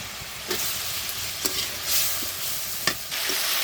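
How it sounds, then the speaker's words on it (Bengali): Potatoes fry in hot oil with spices, a steady bright sizzle broken by a few sharp scrapes and clicks of stirring, close and alone. "আমি দিয়ে দিয়েছি এখানে আলুগুলো আমি ভালো করে মশলার সাথে কষিয়ে নিচ্ছি তেলের মধ্যে"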